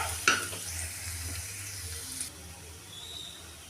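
Chopped onion, green chili, ginger and carrot frying in a pan for red sauce pasta: a steady hissing sizzle under a sharp clack of the spatula at the start and soft stirring scrapes, with no voices.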